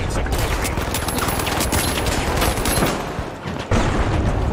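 Rocket launchers fire and explode in a video game, a dense, loud, continuous barrage of overlapping blasts and gunfire that briefly dips before surging back.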